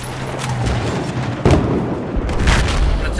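Heavy C4 explosion blasting a tank in Battlefield 4 close-quarters combat on Siege of Shanghai, a sudden loud boom partway through amid continuous dense gunfire and battle rumble, with more blasts following.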